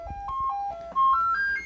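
Commodore C64 diagnostic cartridge plays its test music, a clean chiptune melody of bright square-wave notes stepping upward in pitch, clear and alone with a faint low hum beneath.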